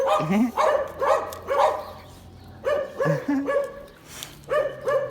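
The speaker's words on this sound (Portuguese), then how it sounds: "a gente achou 5 cachorros aqui, mas só 3 quiseram vir" Several street dogs bark in short bursts, a few close yips and whimpers mixed in, with brief pauses between the barking.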